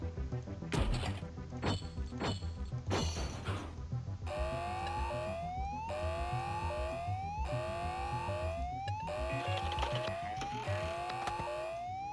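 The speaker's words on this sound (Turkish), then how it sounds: "alarmı nasıl kapatacağız ha?" An alarm sounds during a Stranger Things 3 episode: after crashing, busy music, a loud electronic tone sweeps upward again and again, about once per second, with a steady drone beneath it.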